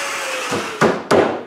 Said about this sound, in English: it's time to mark where to cut some mortises and cut them